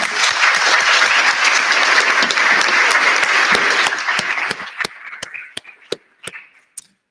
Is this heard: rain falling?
no